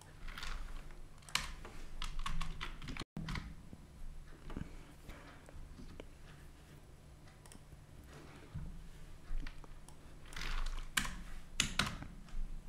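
Typing on a computer keyboard during a Laravel coding session: irregular clusters of quiet key clicks and taps, close and faint over a steady background hum, with a brief busier flurry near the end.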